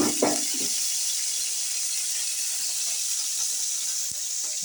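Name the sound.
pouring water into cooking pan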